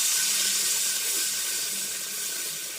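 Chopped onion and spice paste sizzle in hot frying oil while cooking a Bengali hilsa fish curry, giving a steady, close, bright hiss with no voices.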